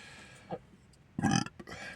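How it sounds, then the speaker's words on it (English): A man burps after drinking sparkling mineral water: a brief faint sound, then one loud, close, gurgly belch with a short tail. "I mean, sorry for burping, but I'm a guy and I'll do it."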